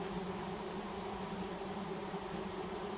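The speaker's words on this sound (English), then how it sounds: "The garden is abuzz with flying insects" Bees and other flying insects buzzing steadily in a garden, a continuous close drone with no other sounds.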